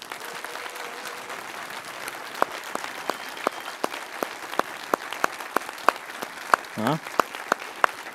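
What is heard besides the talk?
audience applause at a conference talk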